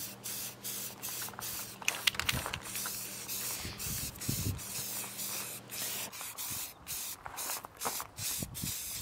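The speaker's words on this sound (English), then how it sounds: "sprayed the router areas with black primer" A spray can applies black primer to routed areas of a wooden gun case in short hissing bursts, several spaced spurts of spray over a low steady hum.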